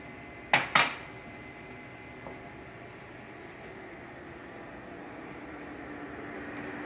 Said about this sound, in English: Now I'm going to put in 8 ounces of sharp cheddar